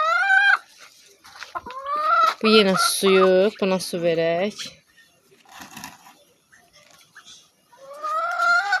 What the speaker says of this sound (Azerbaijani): Ondan başqa hamısı özüm saxlayıb böyütdüyüm toyuqlardır.